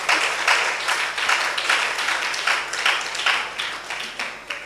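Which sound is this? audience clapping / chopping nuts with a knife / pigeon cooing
audience clapping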